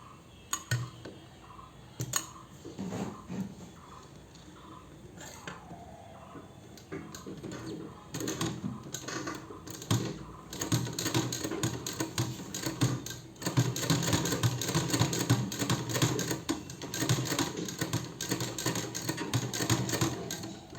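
A ribbon being stitched into a dress on a sewing machine, quiet rapid ticking runs that start and stop at first, then grow into longer, steadier stitching bursts.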